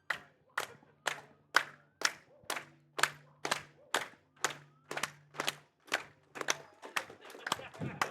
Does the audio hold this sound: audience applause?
yes